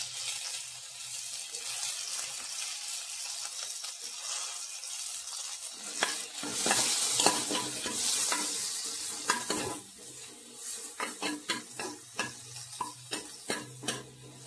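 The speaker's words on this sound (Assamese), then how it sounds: "ফাৰ্ষ্ট টাইম এটা বিলাহীখিনি ভাজি ল'ম" Tomatoes fry in a pan for a restaurant-style fish egg curry: a steady oily sizzle, then a run of sharp spatula scrapes and knocks against the pan near the end, close and fairly loud with no talking.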